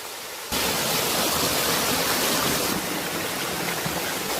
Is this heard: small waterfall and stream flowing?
yes